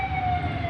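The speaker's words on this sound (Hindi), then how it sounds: "तो यहीं से कहीं से एम्बुलेंस जा रही है," An ambulance siren wails on a street in Sion, its steady tone held loud and close for a brief moment over road traffic noise.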